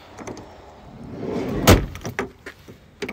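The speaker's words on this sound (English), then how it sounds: "And manual sliding doors." A manual sliding door on a 2003 Kia Sedona minivan rolls along its track and shuts with one loud, close thud, followed by a few small clicks and latch knocks.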